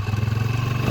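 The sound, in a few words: Honda TMX motorcycle engine running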